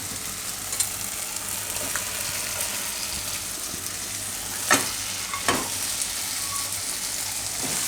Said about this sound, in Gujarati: તો હવે આપણે આમાં નાખી દઈશું આ કેળા અને કેપ્સિકમ.